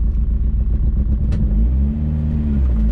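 A VW Scirocco Mk2 with an ABF engine conversion and a rebuilt carburettor rumbles loudly nearby on its first start, its deep idle rising into a brief rev and settling back, with some rattling clatter throughout.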